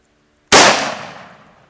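A single sharp rifle shot from a Tavor bullpup rifle, loud and close, with an abrupt onset and a decaying ring-out that trails away over about a second.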